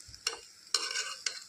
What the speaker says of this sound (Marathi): ते व्यवस्थित परतून घ्यायचं मंद आचेवर